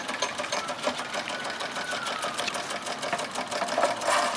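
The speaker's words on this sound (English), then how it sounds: "Nice looking engine. Runs really smoothly." A Doll 364 series model steam engine runs smoothly on its first steam-up, giving a fast, even mechanical chatter with a steady rapid rhythm and faint rattling, close and continuous with no talking.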